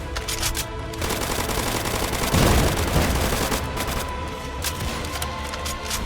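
Rapid, continuous automatic gunfire in Roblox zombie-uprising gameplay, dense and loud throughout with overlapping shots and a heavier burst in the middle.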